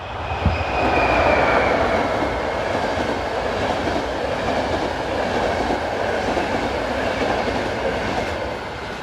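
An electric locomotive hauling a Budapest to Prague passenger train rumbles steadily past up close, a continuous loud roar of wheels on rails with a faint high squeal running through it.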